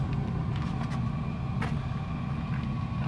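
Steady low hum of a Chinese diesel parking heater running flat out on a camper van build, heard from outside the vehicle, a constant quiet drone under faint traffic-like background noise.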